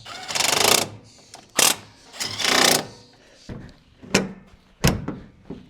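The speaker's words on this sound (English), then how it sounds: "Now let's see if the hood closes." A Ram 2500 pickup's hood lowered and latched, heard as a string of loud metallic thunks and clanks: two long rattling drops, then several sharp slams close by, with no talking.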